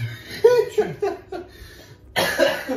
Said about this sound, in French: Pardon, pardonnez-moi si je tousse